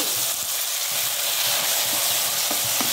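Tomatoes and onions sautéing in a pan for semiya rava upma, a steady close sizzle with a constant bright hiss and a few soft stirring scrapes.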